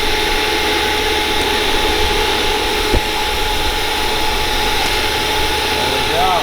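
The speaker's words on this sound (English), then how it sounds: "we have the other side duct taped to a shop vac" Steady, loud roaring whoosh of a shop vac pushing air into a propane-fired forge, a continuous broadband drone with a low rumble that holds even throughout.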